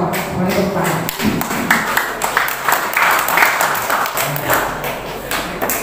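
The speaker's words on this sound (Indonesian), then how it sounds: "Kita beri aplaus." A crowd applauds at a village meeting forming the Merah Putih village cooperative in Brumbung. The clapping is a dense, sustained patter of many hands, fairly loud and steady throughout.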